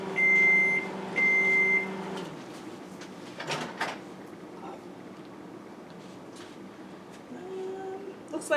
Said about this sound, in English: This is our lovely microwave here.